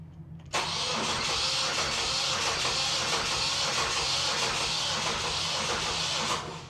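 A Kubota diesel engine cranks and catches after its glow plug cycle, then settles into a loud, steady running clatter with hissy noise for several seconds before cutting off near the end.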